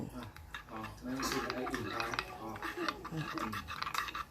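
A spoon stirs steeping Thai tea in a vessel, making a steady, rhythmic scraping and swishing close by, with someone talking over it.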